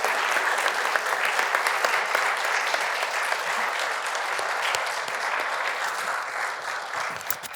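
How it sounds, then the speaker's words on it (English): Steady, dense applause from an audience at an artist reception at the Sandwich Glass Museum, sustained at an even level throughout without any speech over it. "Can we give all our artists a big round of applause and a big thanks?"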